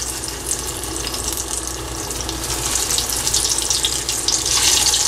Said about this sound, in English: Heat the oil in the pan, make sure oil is heat. Now I am going to add our marinated brinjal.